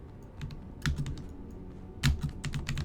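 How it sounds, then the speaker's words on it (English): Typing on a computer keyboard during a Guild Wars 2 game session, with irregular clusters of clicky keystrokes and two heavier bursts of key presses close to the microphone, no talking. "Keyboard."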